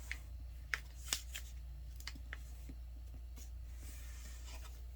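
A sheet of paper is folded into a paper airplane: quiet, close rustles and sharp crinkling creases, with a couple of crisp snaps early on over a soft room hum.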